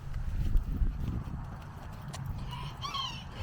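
Hooves thud and clop on the ground close by, irregular steps, followed by a faint whinny-like call near the end.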